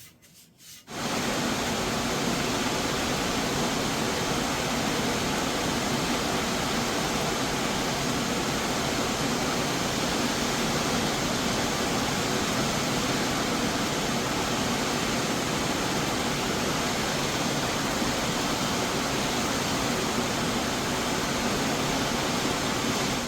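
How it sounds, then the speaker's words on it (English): An electric fan blows a steady, loud, broadband rush of air to dry freshly stained wooden legs for a cherry table. The whoosh starts abruptly after a moment of quiet and then runs unchanged with no voices. "If I put this in front of the fan, you'll see how quickly it will dry."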